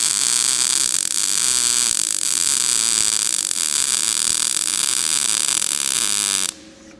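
A cheap PUWU MIG welder run with a push technique gives a steady, loud crackling hiss with a buzzing hum, continuous for several seconds before cutting off abruptly near the end.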